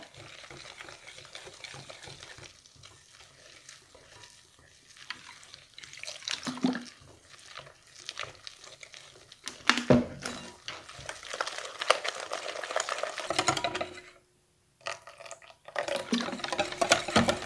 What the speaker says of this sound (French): on va mettre de l'eau petit à petit, jusqu'à, comme je vous disais, l'obtention d'une pâte à crêpes